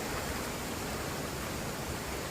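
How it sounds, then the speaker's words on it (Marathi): A river waterfall rushing loudly in a Konkan setting, a dense, even roar of water filling the scene without any breaks. "इथं धोध ही पाण्याचा जो आवाज आहे ना मोठा आहे"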